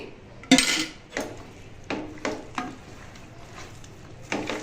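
Rohu fish pieces being mixed with chili powder and oil in a bowl, with a handful of soft clinks and scrapes spaced a second or so apart, fairly quiet and close.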